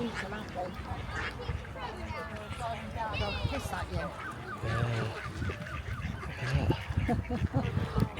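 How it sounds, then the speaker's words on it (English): Many ducks and geese honk and quack together in a busy, noisy crowd while being fed, with people talking nearby, in Bude. "thousands of ducks being fed"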